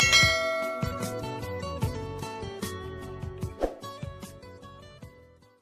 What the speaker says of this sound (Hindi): सब्सक्राइब करते वक्त ना घंटी बजा देना।